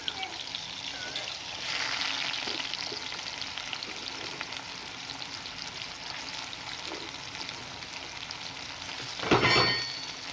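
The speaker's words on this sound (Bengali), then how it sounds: "এবার আমি করলাগুলো এর মধ্যে দিয়ে লাল করে ভেজে নেব।" Bitter gourd slices frying in hot oil give a continuous close sizzle and hiss that stays steady throughout, with a brief louder burst of crackling near the end.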